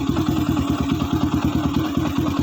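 Yamaha Vixion supermoto single-cylinder engine running close up, a rapid rhythmic thumping putter with throttle blips lifting the revs slightly, alone with no talk.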